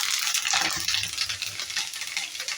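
Curry leaves frying in hot oil with cumin and mustard seeds for a tomato brinjal curry, giving a continuous close, crackling sizzle with occasional stirring.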